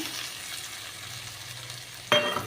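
Spice paste of ground cumin, coriander and green chilli with tomato hits a hot pan over a high gas flame, bursting into a sudden loud sizzle after a quiet low hum of the burner.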